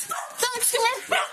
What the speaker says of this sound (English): Dog's friendly? Hi, dog. Hi, puppy.